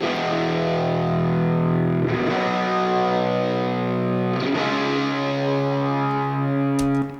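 Sustained distorted electric guitar chords, with a wide, shimmering chorus effect and no compressor, played loud and steady with a couple of chord changes.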